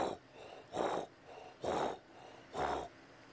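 A person imitates a leopard's sawing call, sounding like a wood saw: four rhythmic, breathy rasping strokes evenly spaced, moderately close and fairly quiet.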